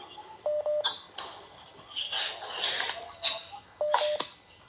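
Keypad tones from a dual-SIM mobile phone: two short bursts of beeps, one near the start and another near the end, with rustling handling noise in between and no one talking.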